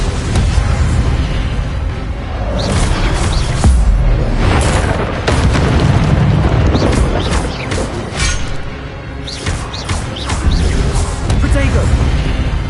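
An Incendio fire spell blasts in Hogwarts Legacy on PS5, bursting out as loud, heavy booms and crashing impacts in a dense stretch of magical combat.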